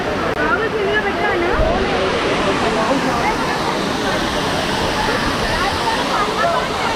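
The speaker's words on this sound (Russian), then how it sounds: "Вот он водопад, 400 метров высотой." A 400-metre waterfall in Goa roars as a continuous, broad rush of falling water close by, with voices talking over it at points.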